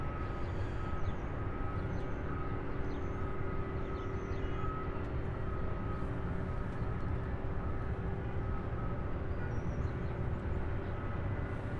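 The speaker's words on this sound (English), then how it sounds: "the A300 out of Orlando, arriving here after a 1 hour 53-minute flight" An Airbus A300 arriving from Orlando at Louisville International Airport rumbles as a steady, broad engine roar, continuous and fairly loud throughout with no voices.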